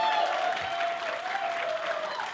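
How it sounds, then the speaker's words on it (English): Audience applause at a gathering of professional speakers, steady dense clapping from a crowd filling the whole moment, with a faint sustained tone running underneath. "can we do a huge round of applause?"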